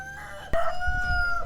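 A blue bantam rooster crows once, close and loud, a strained harmonic call held for about a second after a short quieter lead-in.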